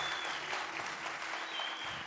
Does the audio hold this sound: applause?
yes